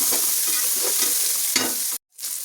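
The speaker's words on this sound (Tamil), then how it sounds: "இப்போது வெங்காயம் நல்லா வதங்கிடுச்சு." Small shallots sautéing with rock salt in a hot pan for a tamarind okra curry, a steady loud sizzle with scraping stirs, no voices, then a brief cut to silence before the frying resumes.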